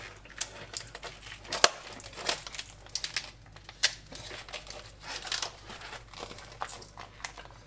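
Scissors cut open a plastic vacuum pack holding beef ribs, giving close, irregular crinkling and crackling of plastic with sharp snips and rustles throughout.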